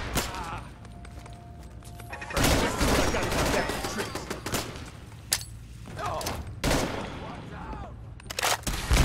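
Gunfire in the Fallout 4 video game, a burst of loud shots and crackling volleys that start abruptly and recur in several sharp bursts, with game voices calling out in between.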